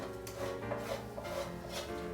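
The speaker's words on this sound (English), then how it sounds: "right now you're just kind of focused on getting all that stuff scraped off the bottom so it can mix into your gravy" A utensil scrapes and stirs milk gravy across the bottom of a pan, a close, steady rubbing rasp with a few stronger strokes, no talk.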